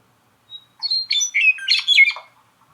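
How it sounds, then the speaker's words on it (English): A western meadowlark sings a short, bright burst of fluting, gurgling notes, close and clear against silence. "That's the western meadowlark."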